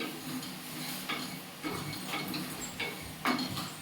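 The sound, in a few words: ingredients frying in oil on low flame for mint pickle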